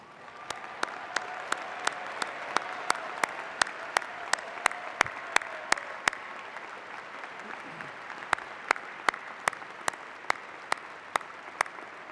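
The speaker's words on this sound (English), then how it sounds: "join me in applauding our newest UNI alumni members." Sparse, scattered clapping from an audience at a university fall commencement, individual sharp claps ringing out one by one in a large quiet hall, fairly faint and continuing throughout.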